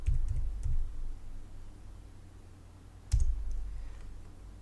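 A few soft clicks and keystrokes on a computer keyboard while entering a number into a filter field, sparse taps spread out with a louder click near the end.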